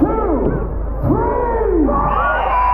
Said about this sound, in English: On the count of 3, Marrow, I want you to scream. And hold it on